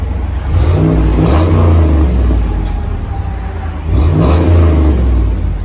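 Dodge Dakota with a 4.7L V8 and the exhaust resonator still fitted, revving twice in loud rising surges with a deep rumbling idle between, heard close with no talk.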